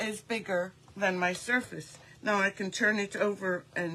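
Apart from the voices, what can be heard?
No distinct noise like a dog, phone or traffic.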